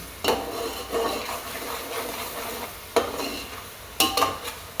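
Paneer biryani mixture is stirred in a pan: repeated scraping strokes come in short bursts at irregular intervals over a faint sizzle, close and moderately loud, with no talking.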